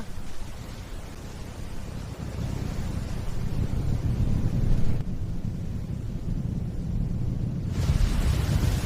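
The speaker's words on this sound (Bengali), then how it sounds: "বাতাসও খুব জোরে বইছে" Strong wind blowing over the sea in a cartoon, a constant loud rushing roar with a deep low rumble that shifts in texture partway through and swells again near the end. No voices.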